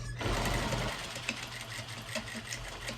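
A sewing machine runs steadily while stitching along marked lines, a close, continuous mechanical whir with a low motor hum underneath.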